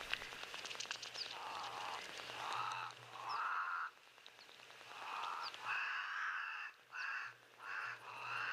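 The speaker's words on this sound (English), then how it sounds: "So get that quite clear vocal of the Cape Crow." A Cape crow gives a series of harsh, drawn-out caws, repeating in bursts at a moderate distance over a quiet natural background with no talking.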